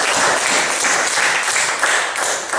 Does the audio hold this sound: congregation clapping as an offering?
yes